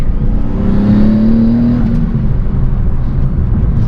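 Twin-turbo Nissan 370Z NISMO with a 6-speed manual blipping its engine to rev-match a downshift, a loud close engine note that rises and then settles into a steady drone.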